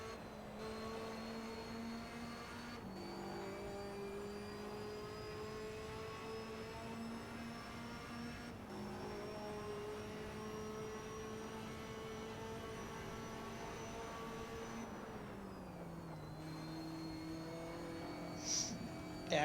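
A Ferrari engine in the Assetto Corsa racing sim drones steadily and evenly at moderate level, its pitch stepping down at a few gear changes across the run, with no talk over it.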